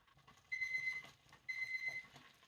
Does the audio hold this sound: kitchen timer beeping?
yes